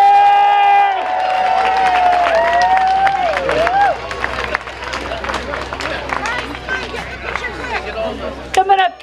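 A crowd of kids cheers and claps at a chili cook-off awards event, a loud mix of shouts, applause and overlapping chatter that follows a brief tonal whine at the start.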